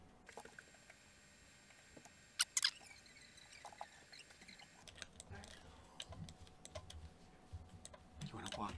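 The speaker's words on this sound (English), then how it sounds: "You want to walk all over his keyboard and help him?" A cat walks across a computer keyboard, its paws pressing scattered keys in quiet, irregular clicks with a couple of sharper taps, while a person talks softly nearby.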